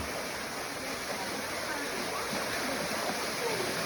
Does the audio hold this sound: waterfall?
yes